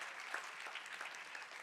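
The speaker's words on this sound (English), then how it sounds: "let's give him a big round of applause for that strength, for that inspiration" A keynote audience gives a brief burst of applause, a dense, even patter of many hands clapping together.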